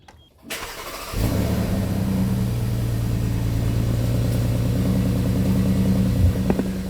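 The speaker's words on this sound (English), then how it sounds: "Kind of a lame cold start, I understand, but it's just the platinum edition of the Cayenne." A 2017 Porsche Cayenne Platinum Edition engine cold-starts after a brief crank, then settles into a steady, fairly loud idle with a low hum, close by and with no talk over it.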